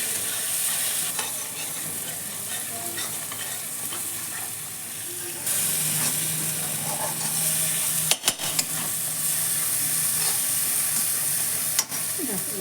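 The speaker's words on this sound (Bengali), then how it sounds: "আমার মশলা ভাজা হয়ে গেছে" Spices for a tangra fish curry with green chillies fry in oil, a continuous close sizzle with stirring scrapes and a few sharp clinks of a utensil against the pan.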